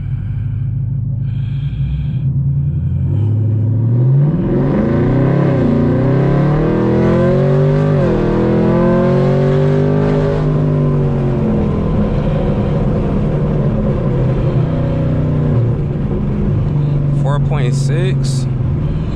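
A Chevrolet Camaro SS engine revs hard from inside the car as the wheels spin, a loud rising and falling engine note filling the whole stretch with rough rumble and breath-like noise from the cabin.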